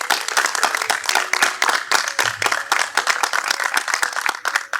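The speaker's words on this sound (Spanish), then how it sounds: "Así que denle un fuerte aplauso al Señor." Church congregation clapping loudly and steadily, a dense burst of sharp hand claps sustained throughout with no talk over it.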